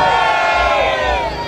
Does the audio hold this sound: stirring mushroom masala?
no